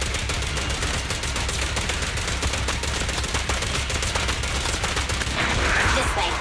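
Rapid automatic gunfire in the action game Zenless Zone Zero, a dense, loud, continuous stream of shots running the whole time over layered game effects.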